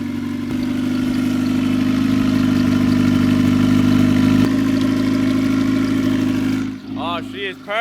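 A rebuilt turbocharged Honda Civic engine idles steadily with a smooth, even hum close by, then the note drops near the end as voices and a faint squeal come in.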